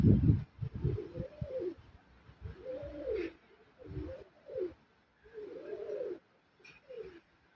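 Soft Iraqi pigeon coos repeat in gentle rolling phrases, with brief pauses between, close and fairly quiet.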